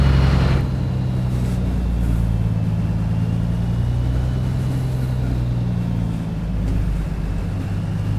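A truck engine idles and rolls at low speed around fuel pumps, a steady low drone with a continuous rumble that holds level throughout, close and fairly loud.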